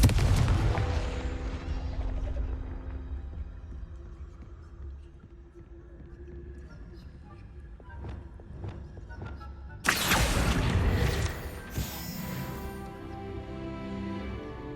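A Confringo blasting spell goes off in Hogwarts Legacy with a sudden loud burst about two-thirds through, following a rumbling opening and quieter magical effects, with no talk.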